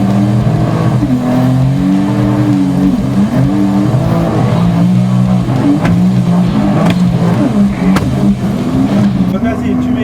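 A 300 hp Seabreacher shark-shaped boat's engine revs and accelerates, its loud droning tone rising and falling continuously for ten seconds, with excited voices talking over it.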